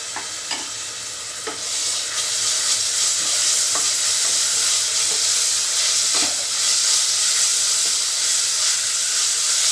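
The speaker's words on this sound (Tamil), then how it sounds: "இப்போ நம்மளுக்கு வெங்காயம் நல்லா வதங்கிடுச்சு இந்த டைமில் நம்ம இஞ்சி பூண்டு பேஸ்ட்டு சேர்த்துக்குருவோம்" Onions sautéing in a pan with ginger garlic paste added, for coconut milk rice, give a steady close sizzle and hiss with occasional stirring scrapes, getting louder after the first couple of seconds and continuing alone.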